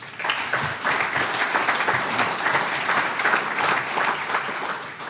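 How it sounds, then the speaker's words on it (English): Steady, loud applause from a banquet audience at a Hall of Fame dinner, many hands clapping densely and evenly for about five seconds with no voices on top. "Let's give them another round of applause."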